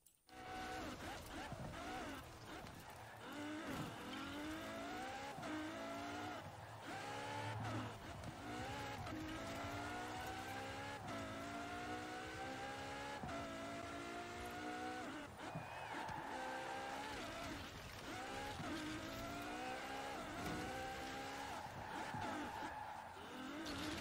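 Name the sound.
car driving on Lego surfaces in Forza Horizon 4 video game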